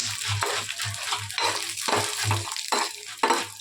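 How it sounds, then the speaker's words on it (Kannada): Chillies, garlic and peanuts for radish chutney fry in oil in a pan, a close sizzle broken by repeated scraping and stirring strokes of a spoon against the pan. "ಎಲ್ಲ ಚೆನ್ನಾಗಿ ಫ್ರೈ ಮಾಡಬೇಕು"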